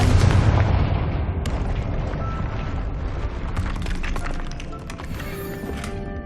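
A Confringo fire spell explodes in the Hogwarts Legacy game, opening with a loud deep boom that rumbles and decays into crackling debris and scattered sharp pops.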